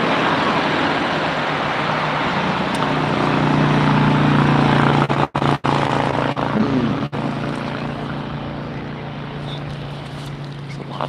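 Steady roar of road traffic with many cars passing, heard from a golf cart ride, a dense continuous wash of engine and tire noise with a few sharp knocks and dropouts midway.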